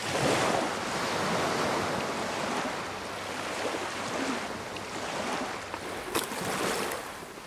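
Sea surf rolls and breaks on a rocky Santorini shore, a continuous close roar of washing waves with gusty wind across the microphone, swelling and easing with one brief sharper splash.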